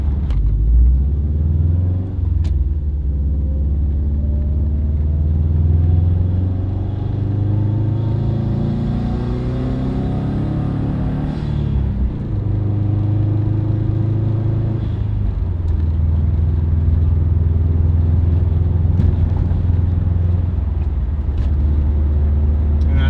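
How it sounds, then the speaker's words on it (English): A Subaru STi's engine hums and rises in pitch as it accelerates, dropping between gear changes up through fifth, with steady road rumble throughout; no one speaks. "Up through 5th gear, and we're cruising about 45 right now."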